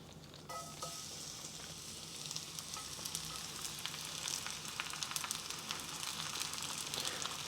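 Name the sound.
pancake batter frying in hot oiled pan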